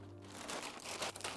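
A plastic bag crinkles and rustles quietly in a short, continuous burst as a protective layer is lifted out of it, close by with low background hum and no talking.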